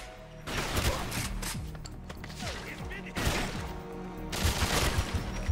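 Gunfire from shotguns in the video game 007 GoldenEye Reloaded, with repeated loud blasts and mechanical clatter in rapid bursts over game background noise.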